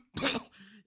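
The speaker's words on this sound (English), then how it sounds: "His words broke up in a fit of coughing." An audiobook narrator acts out a fit of coughing: one short, harsh cough burst followed by a rough, throaty trailing sound, close and fairly quiet.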